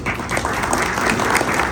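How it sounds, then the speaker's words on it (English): An audience at a volunteers' appreciation gala applauds, dense, continuous clapping filling the hall for the whole short moment. "I would like everybody to have a huge round of applause for all of us."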